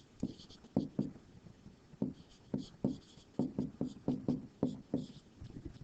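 A pen or pencil writes out an equation by hand in a series of quick, close scratching strokes in an irregular rhythm, fairly quiet and with no talking.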